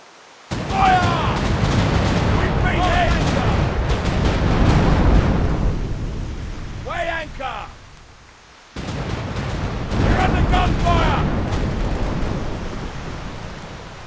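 Ship cannons in the pirate naval game The Pirate Caribbean Hunt fire in rolling, thunderous booms, loud and close, in two bursts of blasts separated by a brief quiet gap.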